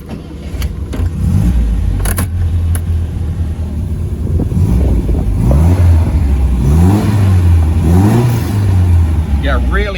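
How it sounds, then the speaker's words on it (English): The engine of a 1967 MGB Roadster, a warmed-up, healthy-running car, cranks and catches, then idles with a steady low rumble and rises in several rhythmic revs, loud and close. "I'll start it up for you and rev it."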